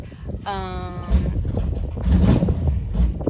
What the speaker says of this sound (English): That's a race car. I hope you can hear me over it.